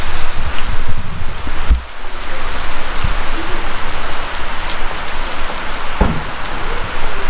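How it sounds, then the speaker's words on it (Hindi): Steady rain falls outdoors in the hill area of Dunga Gali under low-hanging clouds, a dense, continuous patter of drops on surfaces, close and fairly loud throughout, with a couple of sharper nearby drips. "साथ बारिश भी हो रही है और ये बारिश सुबह से हो रही है।"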